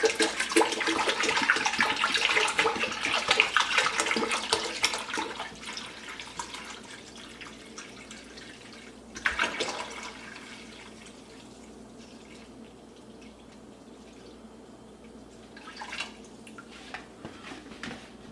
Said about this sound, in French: J'ajoute le reste des 4 litres d'eau.